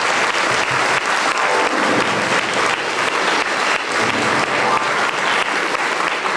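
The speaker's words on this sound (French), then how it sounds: "Je voudrais que nous puissions applaudir pour tous ces membres-là." Sustained applause from a congregation filling a church during a confirmation mass in Perbais, Belgium, steady and dense throughout with no break.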